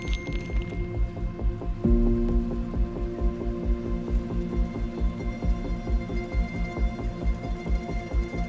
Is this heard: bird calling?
no